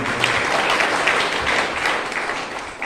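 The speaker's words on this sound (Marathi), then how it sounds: "जोरदार टाळ्या आपण राठोड सरांसाठी." Audience at a lecture series event applauding for a guest speaker, a dense, sustained wash of many hands clapping close and loud for about three seconds, steady without a break.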